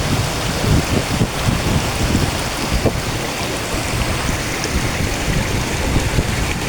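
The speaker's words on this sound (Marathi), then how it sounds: "पाणी बघा आमच्या मागे" Rushing water of a waterfall near Kondeshwar in Badlapur roars loud and constant, a dense unbroken wash with no pauses and no voices, heard from close by.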